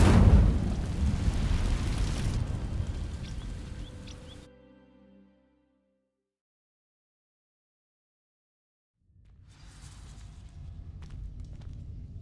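Incendio fire spell in Hogwarts Legacy igniting dry vines, a loud crackling roaring whoosh of flame that fades out into silence, then a quieter ambient bed returns.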